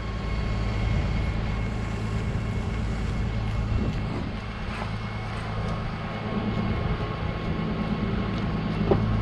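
An International ProStar truck's diesel engine runs at a steady, loud idle, a low continuous rumble that fills the scene with no talking.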